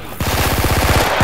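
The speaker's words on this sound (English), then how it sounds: "You are shooting me." Rapid automatic gunfire from a video game shooter: roughly a dozen loud, close shots fired in a quick, even rhythm after a brief quiet start.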